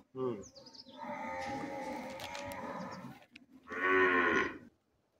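Gir cows in an open, free-roaming cow shed let out two long, loud moos close by, separated by a short gap, with faint bird chirps in the background.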